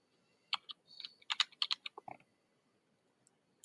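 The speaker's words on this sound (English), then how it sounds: "So we can come here and type Canada." Short run of typing on a computer keyboard, crisp close key clicks in an irregular burst, quiet and alone with no talk.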